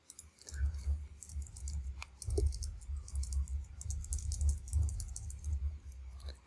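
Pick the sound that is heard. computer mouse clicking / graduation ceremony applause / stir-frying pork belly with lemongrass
computer mouse clicking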